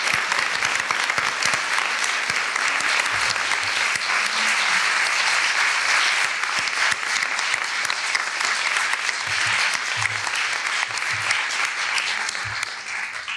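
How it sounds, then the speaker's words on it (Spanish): A sustained round of audience applause at a textile art conference panel, steady and full for over ten seconds with faint murmurs underneath, tapering slightly at the end. "Aplausos."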